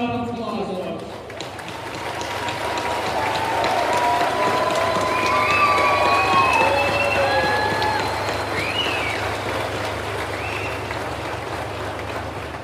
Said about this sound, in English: Ladies and gentlemen, applause.